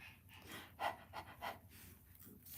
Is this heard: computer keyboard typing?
no